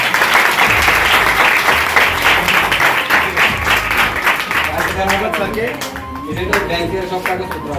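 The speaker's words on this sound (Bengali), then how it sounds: "এবার শুধু পরিমল স্যারের জন্য একটা হাততালি।" Applause for a teacher fills a school award ceremony hall: loud, steady clapping from many people that gradually thins toward the end, while a voice speaks over it.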